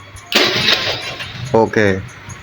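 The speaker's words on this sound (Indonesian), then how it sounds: "starter langsung jreng langsung ya" A Honda Vario carburetor scooter turns over on its electric starter and catches straight away, with a short engine burst close by, while someone talks over it.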